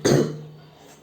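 A single short cough from a person suffering a heavy cold, loud and close, with a brief ringing tail that fades into quiet.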